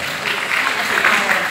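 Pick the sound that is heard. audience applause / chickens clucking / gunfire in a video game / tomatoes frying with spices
audience applause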